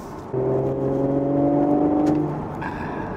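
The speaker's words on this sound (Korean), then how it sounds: "배기음을 듣기 좋은 소리로 잘 조율해 놓고 있습니다" An Audi S5 coupe TFSI engine revs up with a smooth, rising drone and exhaust note, holding for a couple of seconds before easing off.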